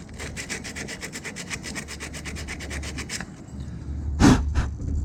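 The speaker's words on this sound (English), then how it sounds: "I have a piece of fine sandpaper here, just to gently rough up that contact" Fine sandpaper rubs back and forth in a quick, even rhythm of about a dozen short strokes on the starter contact of a Ford Model T, close and clear, then stops before a brief knock.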